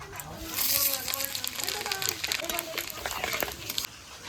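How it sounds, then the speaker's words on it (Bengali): Whole garam masala, cumin, bay leaves and dried chillies hit hot oil in a new wok, giving a bright sizzling crackle that starts sharply and keeps going, with someone talking over it throughout. "আমার তেল গরম হয়ে গেছে, এবার ফোড়নে দেব গোটা গরম মশলা, জিরে, তেজপাতা, শুকনো লঙ্কা।"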